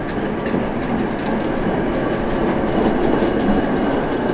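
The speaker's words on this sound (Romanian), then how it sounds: "la fix trece trenul ăsta" A train rumbles past in Bratislava with a steady rolling roar and a rhythmic clickety-clack of wheels over rail joints, loud and close, holding at an even level throughout with no voices.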